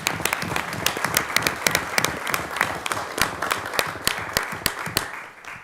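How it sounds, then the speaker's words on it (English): Applause from a small audience at a county board of commissioners meeting, a few people clapping in sparse, uneven claps close by that thin out and fade toward the end. "Let's give her a round of applause."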